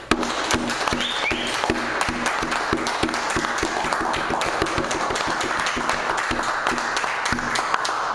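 A Toastmasters audience claps in a steady round of applause, dense overlapping hand claps running the full length at moderate loudness with no voices over them.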